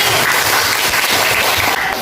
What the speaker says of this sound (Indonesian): Ya, tepuk tangan buat Kevin.